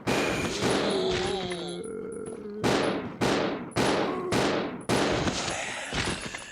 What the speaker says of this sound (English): You can see the pistol fires much faster now.